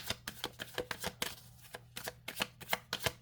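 Rapid crisp riffling of shuffled tarot cards, a quick series of papery flicks with brief pauses, close and clear.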